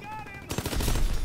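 Rapid automatic gunfire bursts out after a half-second lull in a Call of Duty: WW2 multiplayer match, loud dense shots rattling on continuously with a voice briefly underneath.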